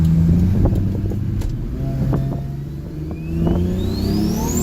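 A 1000 hp automatic Toyota Supra with a 2JZ engine and big turbo pulling hard under boost, a loud close engine drone with a rising turbo whine and sharp transient pops, no voices.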